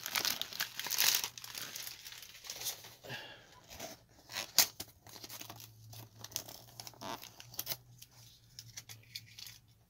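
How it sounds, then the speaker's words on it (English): Tape crinkles and tears as wrapping is pulled from a Christmas present, with bursts of crumpling paper and ripping over several seconds, close up and fairly quiet, with a low steady hum underneath. "Nope, just gotta get that tape off."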